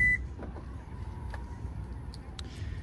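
A Subaru Forester's power liftgate gives a short electronic beep, a single faint tone early on against a quiet outdoor background with a few small clicks.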